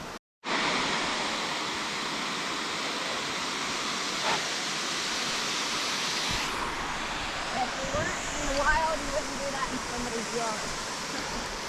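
A waterfall pours in a steady, loud, broadband roar that fills the whole scene, with faint voices appearing near the end.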